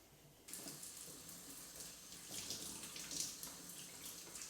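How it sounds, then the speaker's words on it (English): Running lukewarm tap water splashes steadily over plant cuttings as soil is rinsed from their roots, starting abruptly after a quiet moment and continuing with a close, fluctuating wash with no speech. "Let's start washing these cuttings."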